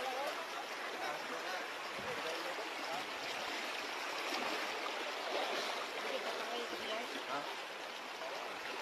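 Strong river current still flowing fast after a typhoon on Sibuyan Island, a loud, continuous, hissing rush of water that stays even throughout, with faint voices underneath.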